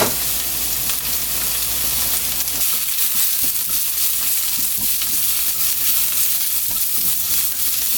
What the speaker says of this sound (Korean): 이렇게 당근도 이제 단단하니까 먼저 넣을게요